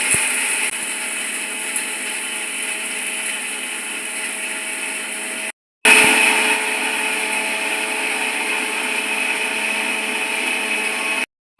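A kitchen mixer grinder whirs loudly and steadily while grinding spices into powder for Mangalore-style chicken sukka. It runs in two long stretches with a brief stop between them.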